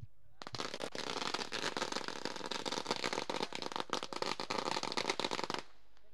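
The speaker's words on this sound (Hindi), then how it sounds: "पटाखों की आतिशबाजी यहाँ पर है।" Firecrackers and fireworks crackle nonstop at an outdoor bullock cart race event, a dense, loud barrage of sharp pops running almost six seconds before cutting off.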